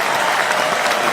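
Loud, dense applause from an audience, a continuous wash of many hands clapping close and steady for a brief moment with no gaps.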